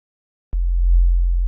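A deep, sustained sine-wave bass note from the Serum synth, with both oscillators set to sine waves, starts abruptly after silence and holds loud and steady.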